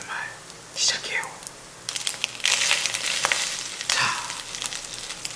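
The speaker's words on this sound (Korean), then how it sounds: "소리 들어보세요. 지글지글 지글지글." Food sizzles and crackles in hot oil, with bursts of spattering and stirring noises up close; a brief spoken word comes at the start.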